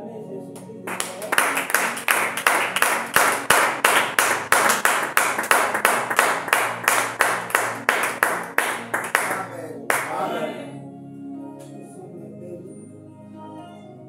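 A congregation at a church service claps in a long, steady rhythmic run of loud hand claps for about nine seconds, then the clapping stops abruptly and the room's reverberant murmur remains.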